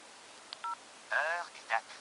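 Short electronic keypad beeps from a Motorola F3 mobile phone while moving through its menus: a few brief tones, then two longer warbling tones, moderately clear against a quiet background.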